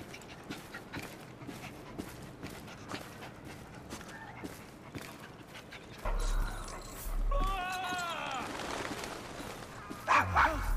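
A dog barks in an Assassin's Creed Syndicate street scene in Victorian London, a string of short barks over busy background ambience with footsteps, followed by louder bursts near the end as someone speaks.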